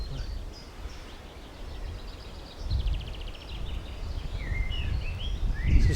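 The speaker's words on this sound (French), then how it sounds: "simplement les sons du vent dans les branches et dans les arbres, c'est assez sympa comme espèce de grande atmosphère" Wind moves through tree branches in a forest, a low, uneven rush that swells in gusts toward the end, while scattered bird chirps sound faintly in the distance.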